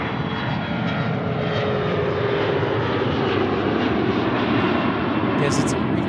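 A CRJ regional jet at Tucson airport gives a steady, broad engine roar, loud and constant throughout, with a voice speaking over it.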